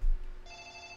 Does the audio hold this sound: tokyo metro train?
no